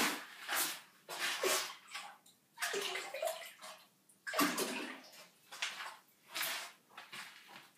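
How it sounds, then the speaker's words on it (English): An object dipped and rinsed in water to wash beer out of it, a series of short splashing and sloshing bursts separated by brief pauses, close and fairly quiet. "Just rinse it in some water."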